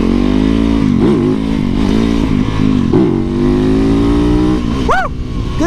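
A lightweight motorcycle accelerates hard through the gears, its engine loud and close with rising revs that drop at each shift before a final sharp rev near the end.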